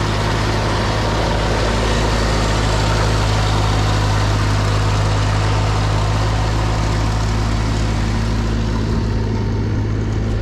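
A tractor engine idles outdoors in snowy weather, a steady, loud low-pitched drone with constant hum running unchanged throughout, no voices.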